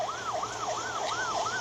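A volunteer fire brigade ambulance on the Atlantic highway near San Antonio La Paz, El Progreso, sounds its siren in a fast, even wail that rises and falls about four times, loud and close, with no talking.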